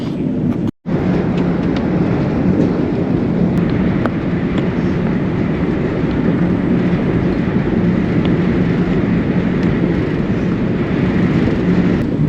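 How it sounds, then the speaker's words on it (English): A loud, steady rumble of a moving train heard from inside the carriage on a journey to Uppsala Central, Sweden, broadband roar with faint clicks, briefly cut out once near the start. "So travelling on the train to Uppsala Central now"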